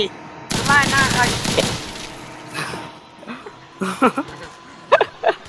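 Rapid automatic gunfire from a Roblox zombie game erupts in a dense, loud volley, then breaks into shorter scattered bursts, with voices talking over the shooting.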